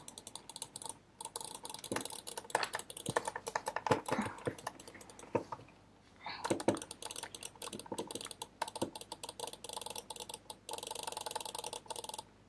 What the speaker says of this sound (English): Yeah, I'm spam clicking.